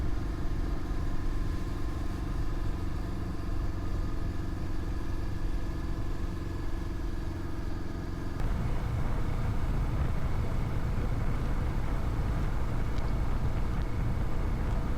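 A motorcycle cruises along highway 73 out from Stockholm on a TransEuroTrail Sweden section, its steady mid-pitched engine hum mixed with constant wind and road rush, roughening into broader noise partway through.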